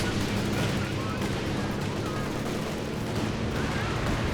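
Land Mattress rocket artillery barrage in Company of Heroes 2, a dense continuous rumble of explosions and gunfire, loud and unbroken throughout.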